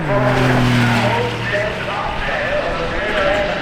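An Intensa supercar driving at the Goodwood Festival of Speed, its engine note rising and then falling away, with crowd noise and a commentator talking over it.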